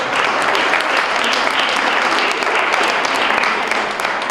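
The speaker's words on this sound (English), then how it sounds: "So one more round of applause for our incredible foundation board." Steady, dense audience applause fills the room at a school district foundation celebration, honoring the foundation board, loud and continuous throughout with no break.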